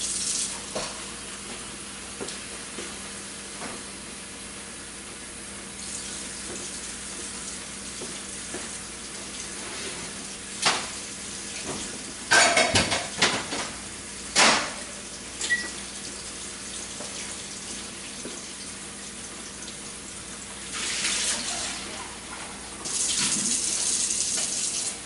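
Tap water runs steadily into a container for changing cloudy painting water, with a few clattering knocks of the cup or brush partway through and a louder splashing burst near the end.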